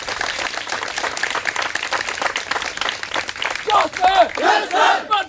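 A crowd at a home guard physical training academy event claps and cheers in dense bursts, and the shouts swell louder toward the end.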